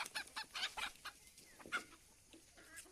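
Chickens clucking on a desi poultry farm in Odisha, several birds giving short, repeated clucks close by, overlapping in an irregular rhythm.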